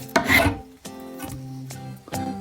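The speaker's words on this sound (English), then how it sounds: "Take smaller, finer shavings of this one." A fine-finishing hand tool scrapes thin shavings from a wooden walking stick in a few close, raspy strokes, with an opening stroke louder than the rest.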